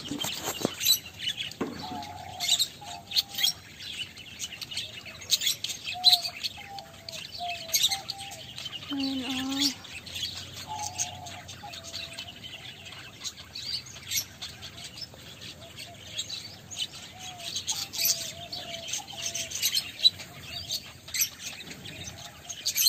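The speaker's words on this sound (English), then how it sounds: "Ang babait na mga birds po. Hindi po sila natatakot sa tao." Birds chirp and call at a farm in the UAE, with scattered tweets and short warbling phrases close by over a faint outdoor background; one brief louder squawk stands out midway.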